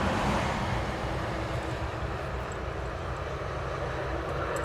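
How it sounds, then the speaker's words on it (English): A DHL Boeing 757 cargo plane arriving at East Midlands Airport makes a continuous engine rumble and roar, loudest at the start and easing slightly, with faint background hiss and no voices. "Next inbound is the DHL 757"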